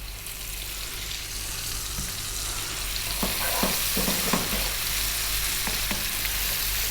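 Onion and ginger garlic paste frying for a Kerala beef curry over above-medium heat, a steady sizzle with scattered scraping and stirring clatters from the pan.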